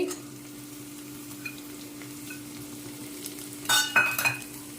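Potato, capsicum and carrot stirred into hot oil in a pressure cooker for veg soya chunks pulao, a low steady sizzle with a steady hum, then a few clinking scrapes of a spoon against the metal pot near the end.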